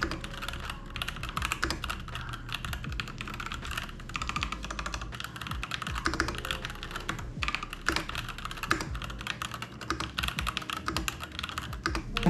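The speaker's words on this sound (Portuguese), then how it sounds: "Agora eu vou fazer um teste de digitação aqui um pouco mais perto pra vocês ouvirem como que é o teclado." Rapid, steady typing on a Yunzii YZ75 wireless mechanical keyboard, recorded up close, with dense clacky keystrokes running continuously with no voices.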